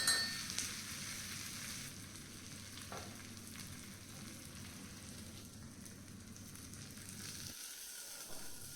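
Onion tempering sizzles and crackles in a hot pan with a soft, steady frying hiss, fairly quiet and continuous, briefly dipping near the end, with no talking.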